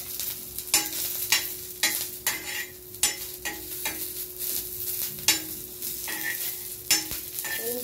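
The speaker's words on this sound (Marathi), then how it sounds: "पुदिना पण थोडंसं तेलावर परतणार आहे मी" Mint leaves sautéing in hot oil in a pan: a steady crackling sizzle broken by repeated sharp scrapes and clacks of a spatula stirring, close and fairly loud, with no voices.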